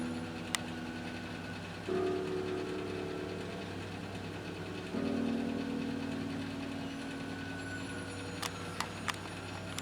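A 1953 Singer 15-91 sewing machine stitches with a standard presser foot, its motor giving a steady mechanical hum that steps up in speed twice, with a few light clicks near the end; no one speaks.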